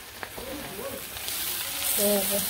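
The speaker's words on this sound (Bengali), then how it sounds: "আর এই পাশে আলু ভাজি বসে দিছি" Potatoes fry in a pan in a village kitchen, giving a steady soft sizzle that swells slightly as a voice speaks faintly over it.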